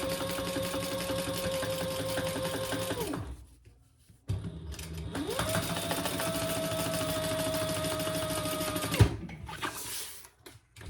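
Sewing machine top stitching a seam on a bag lining to form a back slip pocket, a steady whirring hum that runs about three seconds, pauses briefly, then runs again for several seconds before stopping.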